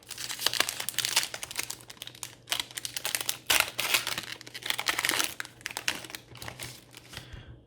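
A foil wrapper on a Pokémon booster pack crinkles as it is opened, close up and in irregular bursts of sharp rustling and crackling, with short pauses between.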